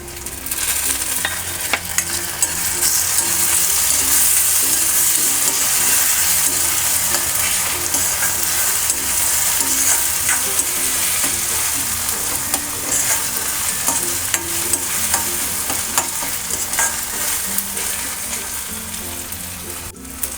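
Chopped tomato and reddened onion fry in a pan for a dhaba-style matar paneer bhurji, giving a loud, continuous sizzle and crackle with stirring scrapes throughout.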